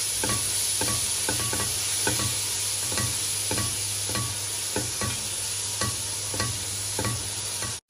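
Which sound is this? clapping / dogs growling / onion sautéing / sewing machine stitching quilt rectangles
onion sautéing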